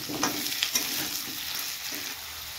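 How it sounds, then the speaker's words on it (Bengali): Large taro corms fry in a pan with a steady, close hiss of hot oil, broken early by a few scraping stirs of a spatula, with no talking. "তো এগুলো একটু ভাজবো"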